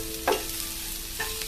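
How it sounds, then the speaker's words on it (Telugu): Green chillies soften with salt in a hot pan. A low, steady sizzle runs throughout, and two distinct spoon stirs scrape in close by. "పచ్చిమిర్చి ఇలా మగ్గిపోయిందండి"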